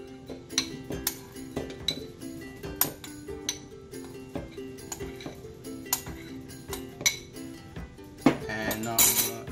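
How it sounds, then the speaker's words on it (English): Mango pieces go into a blender during mango lassi preparation, producing a string of sharp clinks and knocks against the jar and utensils, irregular and close, ending with a louder clatter. "we're going to pour all this mango in the blender"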